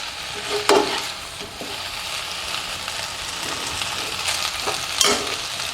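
Scraping and stirring of vegetable noodles in a heavy-bottomed pan over a soft sizzle, with a few sharper clinks of a utensil against metal, close by.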